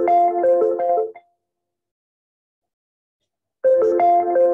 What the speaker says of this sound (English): there should be a notification in the Omni-Channel box.